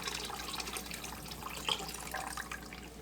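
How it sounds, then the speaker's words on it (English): Water trickles and drips through a Brita filter pitcher in a home kitchen, faint, close and continuous for a few seconds with one slightly louder splash midway. "let me see if my water's dripped through on my Brita"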